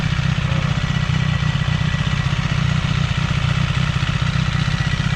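CFMOTO 675NK motorcycle engine held against its soft limiter in neutral at a showroom, a loud, steady rapid pulsing drone with no talk.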